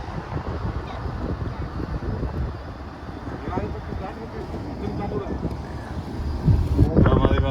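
Strong wind high on Jebel Jais mountain buffets the microphone in a continuous loud rushing roar, with voices talking underneath.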